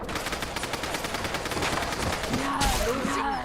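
Sustained automatic gunfire in Fallout London, a fast rattling stream of shots that runs continuously, with brief voices and chirping effects near the end.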